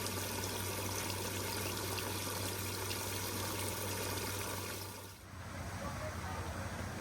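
Cool, fresh mountain spring water runs steadily in a Japanese mountain village, a broad continuous rush that softens slightly near the end with no talk.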